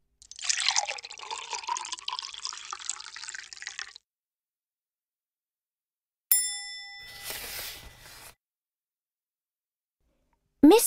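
Water poured into an ink mixture, a splashing trickle lasting a few seconds, then a bright ding followed by more liquid pouring, separated by silent gaps.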